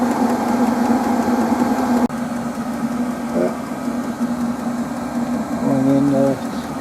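A Chinese diesel heater, one with a white-smoke and low-voltage fault, runs with a steady droning hum and mechanical whir throughout, with a brief tonal chirp near the end.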